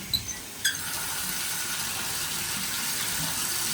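A low-flow shower runs in a hotel bathroom at the Econo Lodge Historic Area in Williamsburg, Virginia, giving a steady, close hiss of spraying water that continues without a break and without any voices.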